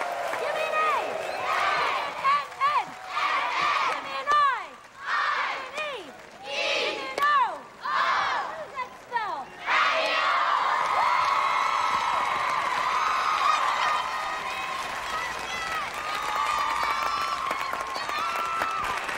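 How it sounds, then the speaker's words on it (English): A live show audience applauds and cheers for sharpshooting performers Sure Shot Annie and Wild Bill, first under the announcer's voice and then as a sustained wash of clapping and whoops. "So a big round of applause."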